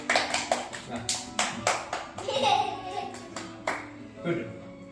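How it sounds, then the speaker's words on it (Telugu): Hands clap in a quick, steady rhythm during a birthday song, close by and mixed with voices, including children, talking and calling out. "Clap clap clap."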